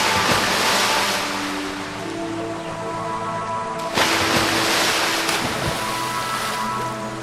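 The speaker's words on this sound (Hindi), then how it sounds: "धीरे धीरे नाव पानी में डूबने लगती है।" A boat goes down into the water, with broad, continuous wave and water rush throughout, loud and close, swelling again in a surge partway through, without any voices.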